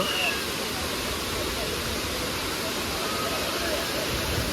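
Water pouring from a pipe at a man-made waterfall at Kothapalli, a loud, continuous broadband rush that stays steady throughout.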